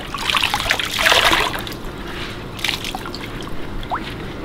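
Dyed cotton fabric is lowered back into a liquid dye bath, making wet sloshing and trickling with dripping water, loudest at first and then quieter splashes and drips, close by with no talking.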